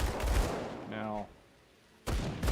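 A rifle firing in the video game Grim Dawn gives a few loud, sharp bursts at the start and again at the end, with a short pitched game tone and a quiet gap between them.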